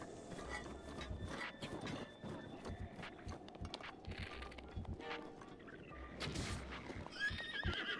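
Horse in a Zelda video game neighing and whinnying over clip-clopping hooves, fairly quiet and steady across the whole stretch with several whinny bursts.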